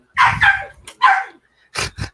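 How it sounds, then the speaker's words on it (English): A dog barks in four loud, sharp bursts close by, with short gaps between them and a brief lull in the middle. "don't know what my dog is freaking out about, but he is"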